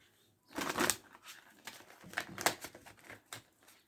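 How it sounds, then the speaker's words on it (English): Tarot cards are shuffled by hand in a few quick riffling bursts, close and fairly quiet, with short gaps between the flurries and no talking. "terrible shuffle."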